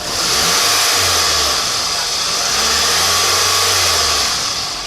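A car engine revs with its exhaust cutout during a demonstration of a new cutout, a loud, steady, hissing roar whose deep engine tone rises and falls in two rev surges, close by with no talking.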